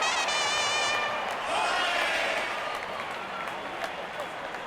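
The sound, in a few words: crowd cheering in a cricket video game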